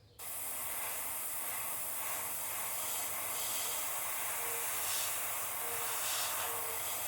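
Airbrush spraying paint onto a stencil laid over a thin crankbait lure, a steady close hiss of air running continuously after a sharp start, with no talk over it.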